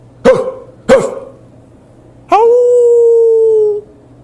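Hounds sound off as an effect: two sharp barks close together, then a pause and a single sustained howl that holds steady before cutting off, loud and close against a quiet background.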